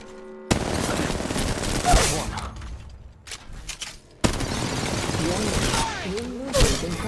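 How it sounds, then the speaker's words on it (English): Rapid bursts of automatic gunfire fill a match of the mobile game Apex Legends Mobile, dense volleys broken by a short lull, then more firing, with in-game voice lines spoken over the shots. "Taking fire!"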